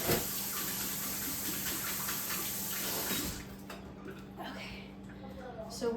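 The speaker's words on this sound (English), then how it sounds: "rinse my hands now." Running tap water pours over hands being rinsed during homemade cleaning spray and laundry soap making. It gives a steady, close rush for about three seconds, then cuts off and leaves quieter room sound.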